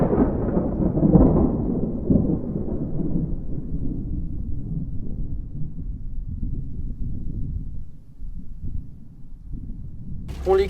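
Thunder from a heavy thunderstorm with strong electrical activity over the sea, a long deep rumbling roll that fades slowly over several seconds, loud and fairly close.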